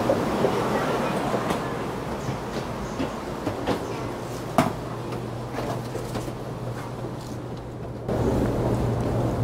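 Passenger cabin of a Taiwan high speed rail train traveling toward Tainan, with a steady low rumble and hum, occasional clicks and knocks, and a faint murmur of people throughout.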